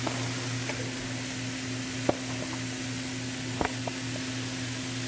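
Frozen vegetables fry in a pan with a faint, steady sizzling hiss over a low hum, broken by a few sharp clicks and pops.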